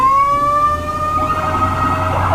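A fire truck siren wails loud and close as firefighters respond to a blaze in Barangay Tonsuya, Malabon, the tone sliding upward and holding steady over a low engine rumble.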